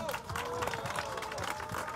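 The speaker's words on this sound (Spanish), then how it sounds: "Un fuerte aplauso a todos." A crowd of residents applauds at an outdoor neighborhood campaign event in the Loma Bella housing unit, a steady wash of clapping lasting the whole moment, mixed with voices talking over it.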